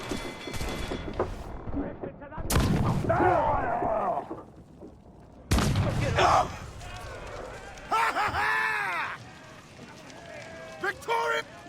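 Ship cannons firing during a naval battle in Assassin's Creed 4: several heavy booming blasts in separate bursts with crackling debris and rumbling tails, mixed with shouting voices and other battle noise.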